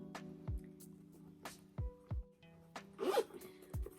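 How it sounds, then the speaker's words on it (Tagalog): Zipper on a Michael Kors messenger bag, pulled in several short, quiet zips with soft handling noises between them, close up in a quiet room. "Ayan, may zipper."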